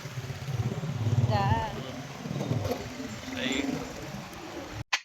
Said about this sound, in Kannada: ಆಫ್ಟರ್ ಲಾಂಗ್ ಟೈಮ್ ನಾನಿವತ್ತು ಬೈಕ್ ರೈಡ್ ಮಾಡಿದ್ದೀನಿ